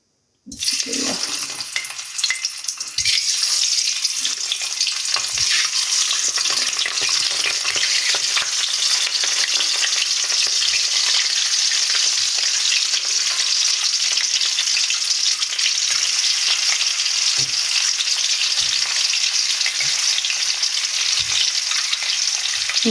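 Eggs dropped into hot oil with a little salt, frying in a loud, continuous hiss and crackle that starts abruptly and holds steady, with faint stirring knocks underneath.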